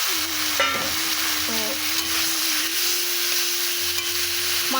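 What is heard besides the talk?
tomatoes added to frying pan for chili chicken, sizzling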